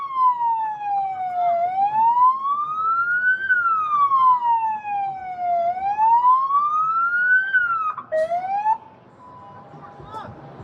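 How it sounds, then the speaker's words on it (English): A loud, nearby police car siren wails in slow rising and falling sweeps, then abruptly switches to a brief different tone and cuts off, with shouted voices in the background. "Turn off my siren!"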